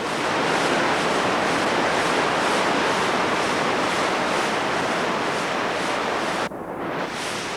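River water flowing steadily through a valley dotted with turbines, a loud, continuous broadband rush that holds for most of the stretch before briefly dipping near the end.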